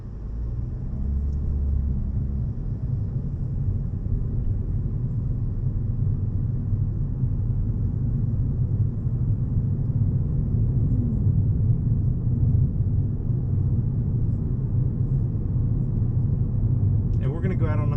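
A 2019 Toyota Corolla Hatchback pulls away from brake hold, its engine and road rumble a steady low drone heard from inside the cabin, with a person talking throughout.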